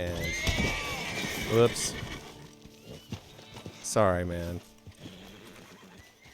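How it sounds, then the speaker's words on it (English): A ridden horse whinnies loudly twice, close by, over the steady clip-clop of its hooves, while a person talks briefly. "I'm riding my horse"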